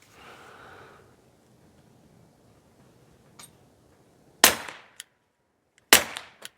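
Two sharp handgun shots ring out at an outdoor shooting range, each followed by a brief echo tail, with a few faint ticks and quiet gaps between.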